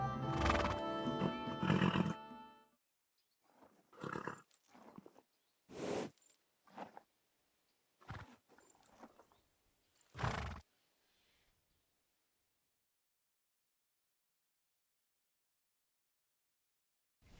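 A horse in the video game Kingdom Come: Deliverance II whinnies loudly, followed by several short snorts and hoof clops separated by pauses, then silence.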